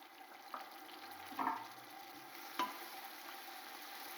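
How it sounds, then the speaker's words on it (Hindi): Browned onions with freshly added tomatoes fry in a pan for matar pulao, giving a low steady sizzle broken by a few sharper stirring scrapes and clinks close by. "प्याज हमारे ब्राउन हो चुके हैं। इसके अंदर टमाटर डाल देंगे।"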